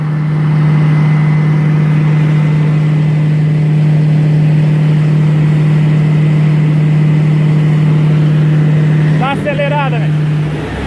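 A Peterbilt truck with a Caterpillar engine idles loudly with a strong, steady low drone that holds for about nine seconds, then a brief louder burst near the end.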